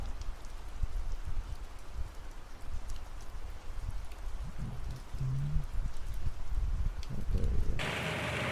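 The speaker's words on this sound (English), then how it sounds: "Still raining" Steady rain falls outdoors at night, a dense even patter of drops on surfaces and foliage with faint low rumbles beneath it.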